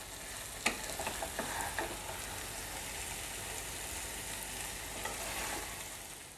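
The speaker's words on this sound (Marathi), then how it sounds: "मी पुन्हा मिक्स करून घेते" Boiled egg masala bubbles and sizzles steadily in a pan over a low flame, with a few scraping stirs near the start and a constant close frying hiss throughout, no voices.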